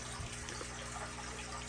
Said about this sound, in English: I'm getting that water straight out of the tap